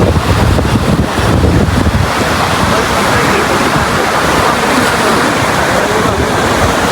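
Waves break and wash up on a clean beach while wind buffets the microphone, producing a loud, continuous roar with heavy surges early on.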